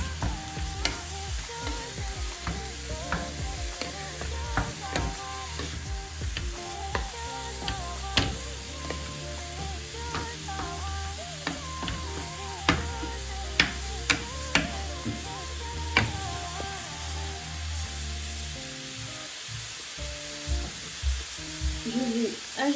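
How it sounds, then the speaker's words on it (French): Minced meat for a hachis parmentier fries in a pan while a utensil stirs and breaks it apart, with continuous sizzling under frequent sharp scraping clicks and taps, close and fairly loud. "J'ajoute la viande. On la sépare, bien sûr, pour bien la mélanger."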